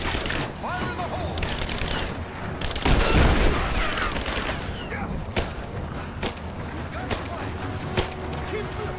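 Gunfire and explosions from a Rise of the Tomb Raider combat scene: dense, continuous shots and bangs with a heavier grenade-like boom around the middle, loud and close, while voices call out over the fighting.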